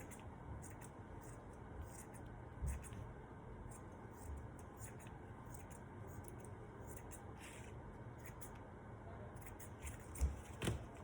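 Scissors snip the ends of ribbon strands to an even length for a handmade tassel, giving a few soft, quiet cuts spread apart over low background noise.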